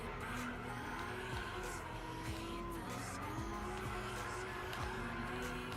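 Tires squeal continuously on an X540 Chaser drift car in the Gran Turismo 6 racing game, a steady screeching slide over a droning engine that holds loud throughout with no talk.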